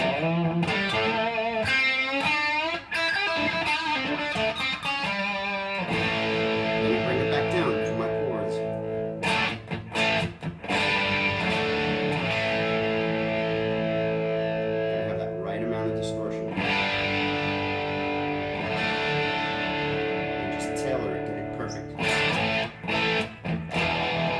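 A heavily overdriven electric guitar plays sustained notes and chords, loud and saturated, with sharp picked attacks and ringing distortion.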